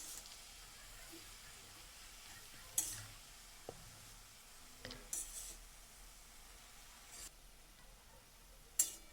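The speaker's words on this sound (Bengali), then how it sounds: "তো দেখুন আমি নাড়াচাড়া করতে করতে শাকটাকে কমিয়ে নিচ্ছি" Leafy greens wilting in a kadai give off a faint, steady sizzle and hiss while being stirred, with a few sharp spatula clicks and scrapes against the pan.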